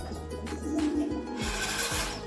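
A big Gopalganj pigeon, a native Bangladeshi breed, gives low throaty coos that swell and fade over a couple of seconds, close by, with faint rustling and no talk.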